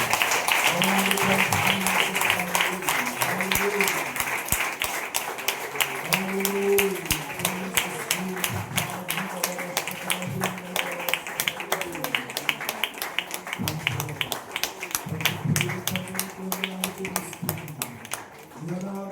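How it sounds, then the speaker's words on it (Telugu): A church congregation claps their hands in steady rhythm during praise, the regular claps running under a prominent voice for the whole stretch. "చప్పట్లు కొడుతూ చప్పట్లు కొడుతూ"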